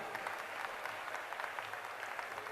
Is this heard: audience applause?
yes